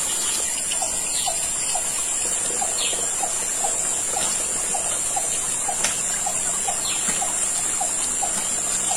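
A small forest stream trickles steadily and softly, with repeated short bird or insect chirps sounding above the running water throughout.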